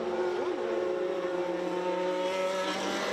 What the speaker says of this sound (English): He's flinging it around the Adelaide Parkland circuit, and flies by John Reeks